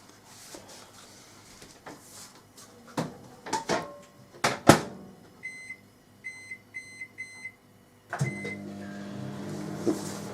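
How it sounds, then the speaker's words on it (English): A microwave oven hums steadily, with clicks and clatter early on, then a run of short electronic beeps before the motor kicks back in with a low drone. "I'll pop this in the microwave now and soften it right down."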